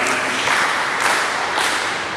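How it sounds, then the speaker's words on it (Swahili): A dense burst of audience clapping at a church regional general meeting, loud and continuous for a couple of seconds with a slight swell midway. "na watu wapigie makofi kwa mazingira haya."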